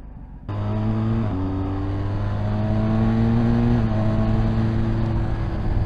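A 2021 BMW S1000XR motorcycle engine accelerates while riding, starting abruptly and rising in a loud, close, smooth drone through the gears with a brief dip at each shift, the pitch climbing steadily, with no speech.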